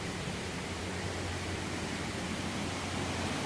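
Steady broadband roar of Balls Falls lower falls, a smaller waterfall, a continuous rushing hiss heard from a moderate distance with no other sounds.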